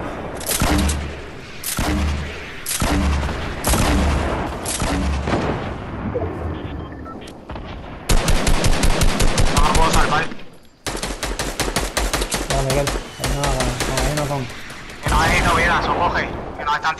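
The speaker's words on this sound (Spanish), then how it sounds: "Ahí nos están disparando otro." Rapid video game gunfire rattles in loud, tightly spaced bursts with heavy booming shots, broken by short pauses, while players talk over the shooting.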